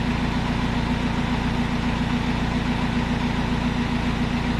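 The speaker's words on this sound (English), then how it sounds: "we got to warm the engine up until the fan turns on" A car engine idles while warming up, a loud, steady low-pitched hum with an even, continuous drone and no changes in speed.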